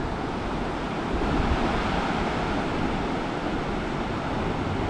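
Water flowing at a stop on a bike ride, a continuous broad rushing wash that holds steady and fairly loud throughout, mixed with wind noise and no voices.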